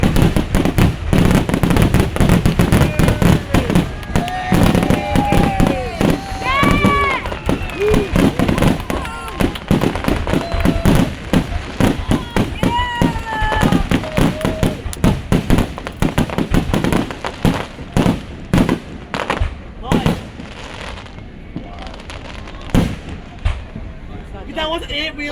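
Dense fireworks over the Merrimack River on the Fourth of July, with rapid booming bursts and crackles, loud and continuous, thinning out near the end, while a crowd of people talk and shout throughout.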